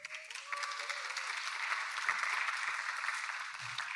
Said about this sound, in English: Who knew the Getty Foundation would get so much applause?